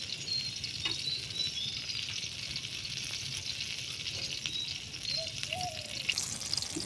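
Fish fritters (bora) fry in hot oil, a steady close sizzle with faint bubbling and occasional small pops, continuous and even throughout.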